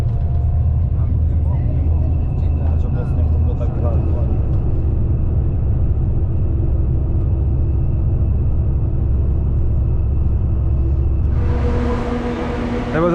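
Steady low engine rumble and road drone from inside a large intercity coach travelling to Podgorica, Montenegro, loud and continuous throughout, with a brighter burst of noise near the end; talk is likely mixed in beneath.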